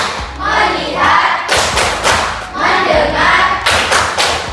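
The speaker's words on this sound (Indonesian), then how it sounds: "1, 2, 3. Tepuk fokus." Students in a school classroom do the 'tepuk fokus' rhythmic clapping game, with loud patterned claps and thumps in repeating bursts alongside group chanting.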